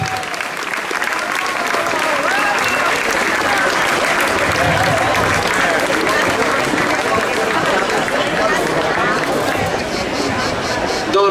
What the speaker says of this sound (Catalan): Un fort aplaudiment per ells dos